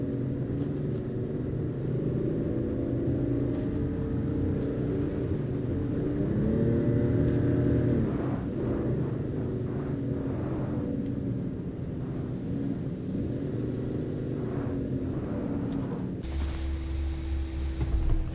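A car from the game Final Fantasy XV drives along with a steady engine rumble and hum, shifting in pitch, continuous and moderately loud, with no one talking.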